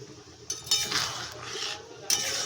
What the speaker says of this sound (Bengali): এখন আমি পোস্তটা সব ঢেলে দিচ্ছি।